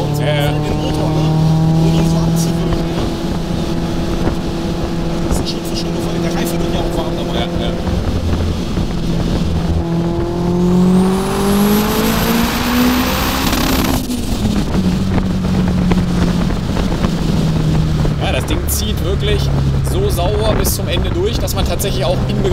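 A 700 hp sleeper VW Polo engine revs hard with a climbing pitch and a rising high whine until it bounces off the rev limiter, loud and close from inside the car while people talk over it.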